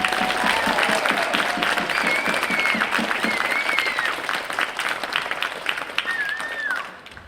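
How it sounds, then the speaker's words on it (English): A crowd at a coastal First Nations dance festival applauds steadily, with some cheering and whoops rising above the clapping before it fades out at the end. "if we can give them a round of applause."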